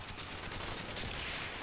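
Mortar fire during a Vietnam campaign mission in Call of Duty Black Ops, heard as a dense, rumbling wash of battle noise with blasts blending into continuous din.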